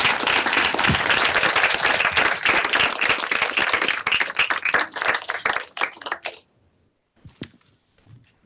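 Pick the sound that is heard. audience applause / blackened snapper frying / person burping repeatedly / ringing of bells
audience applause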